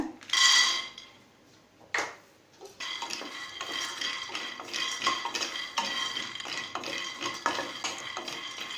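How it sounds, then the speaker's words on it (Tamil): Peanuts roasting in a pan rattle and scrape under a stirring spoon, with repeated metallic clinks and dry rolling taps. A faint sizzle sits in the background and nobody speaks. "வேர்க்கடலையை நல்லா வறுத்துக்கலாங்க."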